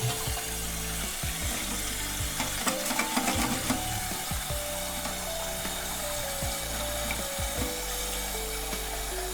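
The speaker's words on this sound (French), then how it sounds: "On rouvre l'eau." Water rushes back into a toilet after its supply valve is reopened during a leak repair, a steady close hiss with a few knocks and no talking.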